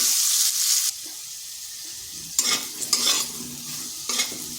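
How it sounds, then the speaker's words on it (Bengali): Potato pieces fry in oil in a pan, a steady close sizzle broken by scraping stirs and bursts of louder spattering as they are turned, with no voices. "এরপর আলুগুলোকে একটু ভেজে নেব।"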